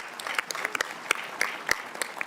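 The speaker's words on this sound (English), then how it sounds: "How about a round of applause for my fellow Alaskans?" Audience at a joint House and Senate veterans hearing clapping for guests from Alaska, scattered claps from a modest crowd, moderately close, without voices.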